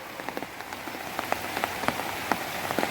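Heavy rain drums on a large four-by-four-metre, three-metre-tall tower tent, a dense, even patter with scattered louder drops hitting the fabric up close, no voices.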